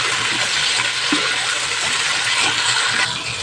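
Tomatoes sautéing in hot oil with garlic and onion in a pan, a steady loud sizzle throughout with faint clinks of a utensil, no talking.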